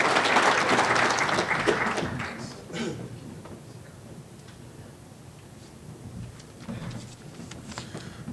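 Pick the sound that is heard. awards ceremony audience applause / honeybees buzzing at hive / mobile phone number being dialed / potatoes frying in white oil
awards ceremony audience applause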